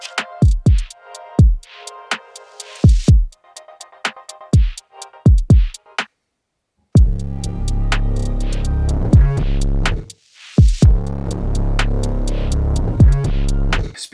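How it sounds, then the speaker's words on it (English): A sustained synth pad is sidechained to a kick and snare, so it ducks hard and pumps back up in a choppy rhythm around the drum hits, with a brief dead-silent break midway. "I will then sidechain the kick of the drums and the snare to the instrument effects bus so that that sound is being ducked really aggressively."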